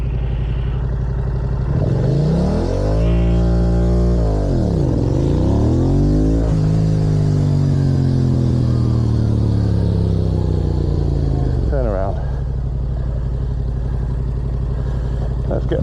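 A Yamaha R7 sport bike revs hard for a race start, its engine note climbing, dipping and sweeping up again through loud, close acceleration before settling to a steady pull, then a quick shift.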